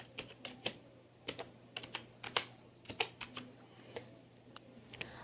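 Keys clatter on a computer keyboard in irregular bursts of quiet, close taps during spreadsheet data entry, with no voices.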